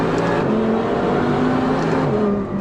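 A supercharged Audi R8 V10 making about 750 hp accelerates hard, its loud, continuous engine roar rising steadily with a supercharger whine on top, filling the whole moment close up.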